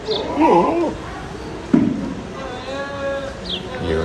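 Goats bleat at a goat farm in India, with a wavering call near the start and further bleats toward the end, while people talk nearby.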